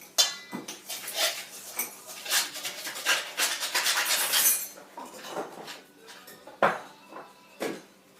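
A spoon stirring baking powder into dry ingredients in a bowl, with a rapid run of scraping and clinking strokes against the bowl that eases off into a few separate taps, close and without talk.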